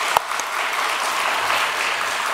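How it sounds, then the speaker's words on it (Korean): A church congregation at a Sunday service applauds together, a dense, steady burst of clapping that carries on for the whole stretch at even loudness. "우리 축복과 우리 사랑의 박수 한번 하도록 하겠습니다."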